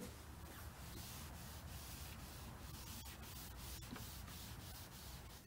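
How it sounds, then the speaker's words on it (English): Danish oil being rubbed by hand into a wooden table, a steady, continuous scrubbing and rubbing sound, quiet and close with regular strokes throughout, no voices. "Just rub that in."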